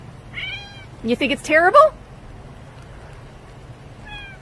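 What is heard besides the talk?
pet cat Yorkie meowing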